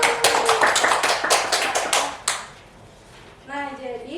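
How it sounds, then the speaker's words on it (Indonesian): Pupils in a classroom during a micro-teaching lesson clap in a quick burst of sharp, close claps for about two seconds. The clapping fades and a voice then speaks. "Kasih tepuk tangan."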